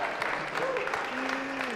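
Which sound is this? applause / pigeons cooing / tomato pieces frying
applause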